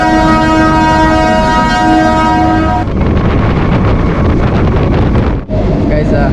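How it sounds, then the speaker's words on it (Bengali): A Sealdah to Shantipur local train runs, loud and close, with a roaring rumble of wheels and carriages mixed with heavy wind buffeting; a steady tone fades early and a brief dip comes near the end. "যে শিয়ালদা টু শান্তিপুর লোকাল রয়েছে এই ট্রেন কিন্তু ছেড়ে দিল"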